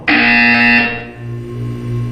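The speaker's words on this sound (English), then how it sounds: "You will hear a buzzer. When you hear the buzzer, look down at the floor." A loud electronic buzzer in the Portal 2 video game sounds once, a harsh sustained tone that cuts off after under a second, leaving a low hum.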